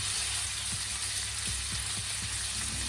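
Steak frying in a hot pan, a loud continuous sizzle with faint intermittent pops and crackles, close up with no speech.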